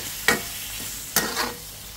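Vegetables with chicken and mushroom frying lightly in a pan, with two distinct spatula stirring scrapes over a soft steady sizzle, close and fairly quiet, no talking.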